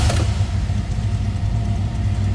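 A 1966 Chevrolet Chevelle convertible's big-block V8 runs on a cold start with a steady, loud, close idle rumble and no voices over it.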